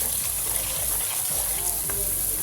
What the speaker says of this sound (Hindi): थोड़ा सा मैं इसमें पानी ऐड कर देती हूँ।